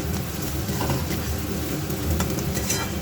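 Potatoes frying with onion in a pan in a home kitchen, a continuous close sizzle with soft stirring and faint clinks throughout.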